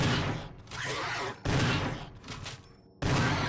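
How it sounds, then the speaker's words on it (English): Three loud, close shotgun blasts, each followed by a rolling decay, fired at a zombie in Resident Evil HD Remaster. "Four shots it takes with the shotgun."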